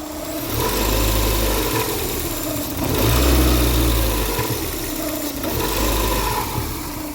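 A 1989 Chrysler LeBaron GTC turbo engine idles loudly up close with a steady rumble that swells and eases in slow pulses, no voices over it.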